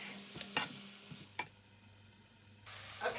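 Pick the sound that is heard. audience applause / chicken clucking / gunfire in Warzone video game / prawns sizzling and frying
prawns sizzling and frying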